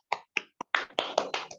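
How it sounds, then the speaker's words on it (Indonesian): A class of children clap together in a rhythmic chant pattern: a few separate sharp claps, then a quicker run of claps, close and crisp with no voices. "Tepuk tangan ke semuanya dulu."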